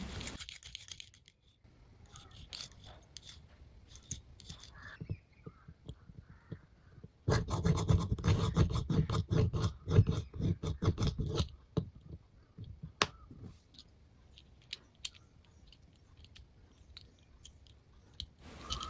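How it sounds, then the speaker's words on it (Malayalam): A hand drill bores a hole in a resin pendant, making close, quiet scratchy grinding in bursts, densest and loudest in the middle stretch, with sparse clicks and scrapes before and after. "ഈ ഒരു ഹാൻഡ് ഡ്രിൽ യൂസ് ചെയ്തിട്ട് ഞാൻ അതിനൊരു ഹോൾ ഇട്ട് കൊടുക്കുകയാണ്."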